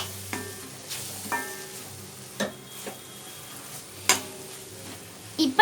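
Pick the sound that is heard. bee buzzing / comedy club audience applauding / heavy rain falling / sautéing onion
sautéing onion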